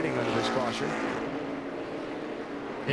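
NASCAR stock cars racing at Bristol in 2004, a loud engine roar that swells as cars pass and then settles into a steady drone, with people talking over it.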